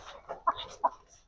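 A Silkie-cross hen clucks after laying an egg, a few short, close, abrupt clucks spaced irregularly in a quiet setting.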